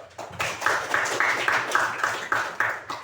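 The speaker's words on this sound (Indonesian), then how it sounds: "Tepuk tangan dulu." Rhythmic group hand clapping in a classroom, about nine evenly spaced claps in a regular beat, fairly close and moderately loud.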